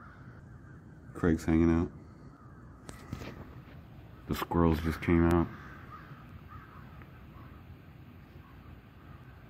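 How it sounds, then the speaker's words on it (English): Crows caw in short harsh bursts overhead during a mass corvid flyover, two clustered volleys standing out against wind noise, with a person talking quietly between them. "Literally every crow in the entire state."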